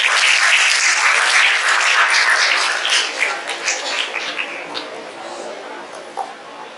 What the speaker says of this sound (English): Please keep the energy high and give them a huge round of applause.